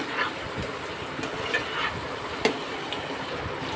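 Catfish curry with taro and potato being stirred in a pan: soft, faint scraping and light sizzling with a few irregular clinks, steady and low under a quiet kitchen background.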